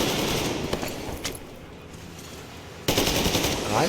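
Video game gunfire: several bursts of automatic weapon fire and sharp shots, then a quieter stretch, followed by a dense sustained volley near the end, loud and close.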